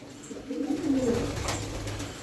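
Low, soft cooing from pigeons, a few rolling murmured calls close by over faint background noise.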